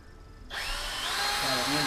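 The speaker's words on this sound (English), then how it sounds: "Switching back to pre-drill." A power drill pre-drilling a pilot hole in wood while a dog house is being assembled, spinning up sharply from near silence into a loud, steady whine with rising motor tones, close by.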